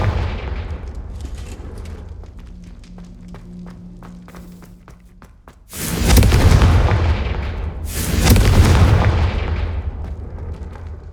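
Two heavy booming blasts of the Confringo fire spell in Hogwarts Legacy, each a loud close explosion with a rumbling decay, following quieter footsteps and ambient game sounds.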